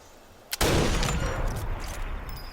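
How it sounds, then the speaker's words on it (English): A single loud rifle shot from the video game Sniper Elite 4 cracks sharply, then trails off in a long rumbling echo that fills the rest of the moment. "let's go into half aim and actually take a shot"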